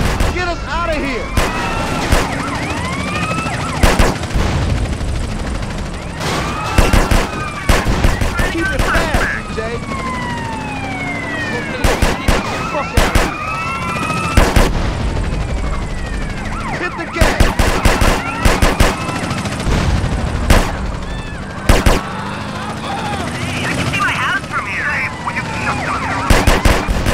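Repeated machine-gun bursts during a drive-by in GTA San Andreas, fired from a 2003 Mercedes-Benz S600 Biturbo. The loud, close volleys come in clusters over wailing police sirens and engine noise, with occasional voices in between.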